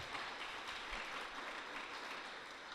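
A church congregation applauds for the Lord during a worship service, a continuous, even roar of many hands clapping at moderate distance, with no voice rising above it.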